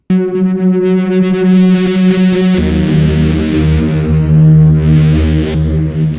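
Buzzy Access Virus TI synthesizer oscillators pushed hard into gritty clipping distortion, a sustained harmonic drone that shifts to a thicker, lower growl midway, loud and alone.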